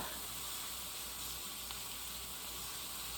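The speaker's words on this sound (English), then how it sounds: "I'm gonna go ahead and add the onion to it, and I'm just gonna saute these up" Onion and mixed vegetables sauté in a pan for orange chicken, giving a steady, even sizzle and hiss that carries on unbroken throughout, close and moderately loud, with no talking over it.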